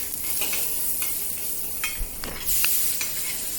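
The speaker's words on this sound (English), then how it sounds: "Add the onion, saute the onion until it turns aromatic." Onion sautéing in oil in a wok, a steady close sizzle with scraping stirs and occasional crackles.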